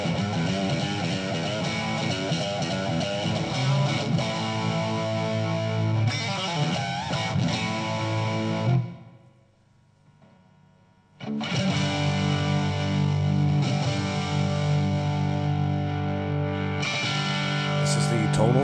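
Electric guitar through an Ibanez TS9 overdrive pedal playing chords and riffs, loud and gritty, with a brief near-silent gap midway before the playing resumes.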